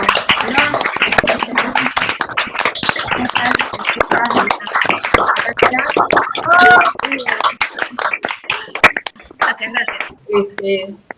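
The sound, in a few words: audience applause for the speakers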